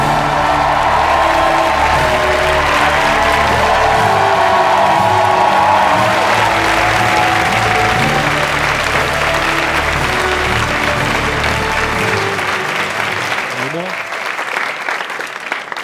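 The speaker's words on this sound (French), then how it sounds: "faites du bruit pour Pierre Metzger" A comedy-show audience applauds and cheers steadily, with scattered whoops, as a presenter is introduced for an awards segment; the clapping stays loud and dense throughout before tapering near the end.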